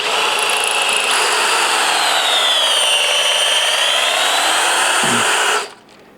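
A drill bores into a rear leaf spring on a 1976 Jeep CJ-5, a loud steady whine with a slowly dipping pitch that cuts off abruptly near the end.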